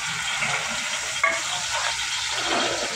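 Garlic frying in a pan for spaghetti, a steady close sizzle with a faint utensil clink partway through.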